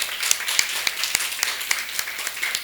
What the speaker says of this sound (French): Est-ce qu'on peut applaudir très fort pour coach Peggy?